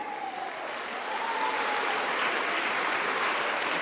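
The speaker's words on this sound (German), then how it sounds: "Grossen Applaus für ihn." An audience applauds a government councillor, a police and military director, at a stage event, with steady dense clapping that swells slightly and holds for several seconds.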